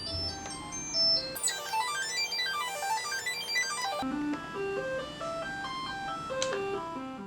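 Synthesizer tones shift and glide as a patch changes, with sweeping arpeggiated notes that morph into a different bright, stepping melodic texture.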